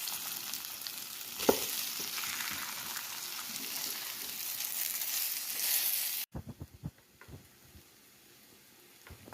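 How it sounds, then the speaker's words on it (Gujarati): Whole mustard seeds, fenugreek, cumin and a chili tempering in hot oil for palak muthia, a steady loud sizzle and crackle for about six seconds, then quieter scattered pops and spits. "હવે અંદર રાઈ, મેથી, જીરું વઘારમાં નાખીશું."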